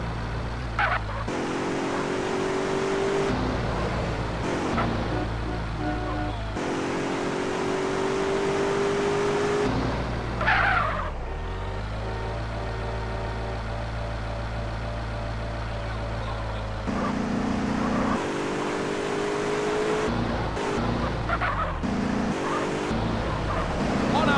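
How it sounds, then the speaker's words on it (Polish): A car driving flat out in the video game GTA San Andreas, its engine droning loud and steady with repeated rises in pitch as it revs through gear shifts, close and continuous, without talk. "dobra gaz do dechy i jedziemy do Las Ventoras"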